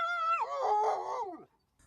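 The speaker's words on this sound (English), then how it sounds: "Beside the bog stood a dog who was howling." A single drawn-out dog howl rises, then slides downward and fades, clear and fairly close, heard alone without talking.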